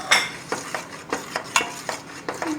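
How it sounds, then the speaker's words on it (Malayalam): A spoon scrapes and clinks around a pan as banana pieces are stirred into a healthy payasam, in about seven quick, evenly spaced strokes, close and clear with no talk. "പഴം ഇട്ടു ഞാൻ നന്നായിട്ട് ഇളക്കാം"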